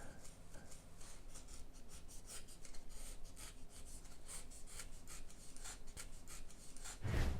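A craft knife slices bevels into foam board for an FT Mini Corsair model plane, giving a run of close, soft scraping strokes in quick succession with faint talk mixed in.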